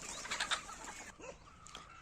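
Desi gavran chickens on a one-acre free-range farm compound give a few soft clucks and bird calls over about two seconds, at moderate loudness, with a faint background hiss.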